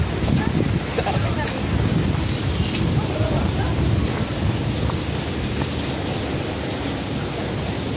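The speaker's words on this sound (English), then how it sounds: "It's raining." Steady heavy rain roars as a dense, continuous hiss throughout, loud and close, with a low rumbling undertone.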